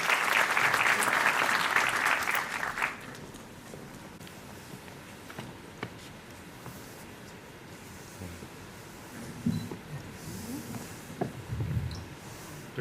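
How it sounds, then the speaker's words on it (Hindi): Audience applause at a university convocation ceremony rises loud at first, then cuts off after about three seconds. It is followed by a quiet hall with scattered thumps and faint movement. "जोरदार तालियां।"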